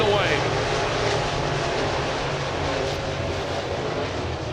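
Race cars roar steadily down the back straightaway of a red dirt clay speedway, a dense continuous engine drone with no pauses, an announcer talking over it.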